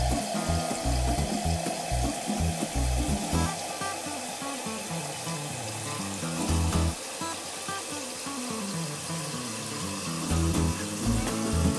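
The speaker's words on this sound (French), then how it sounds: "Mon robinet d'origine remplit 1 demi-litre en 8 secondes." Water runs steadily from a kitchen faucet fitted with a stock aerator, filling a half-litre container with a continuous splashing rush that stays even and fairly loud throughout.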